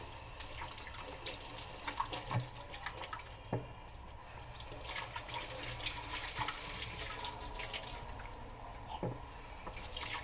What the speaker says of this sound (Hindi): you have to rinse hands with water